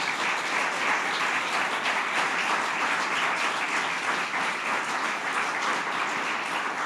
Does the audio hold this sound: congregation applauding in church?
yes